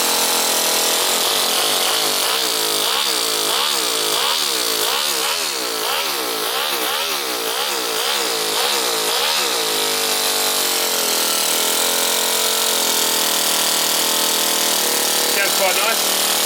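Four-stroke nitro engine in a five-speed RC crawler fires up for its first start, a loud buzzing mechanical drone with rapid pulsing revs in the first half, then settling into a steady high-pitched idle, with a voice talking over it.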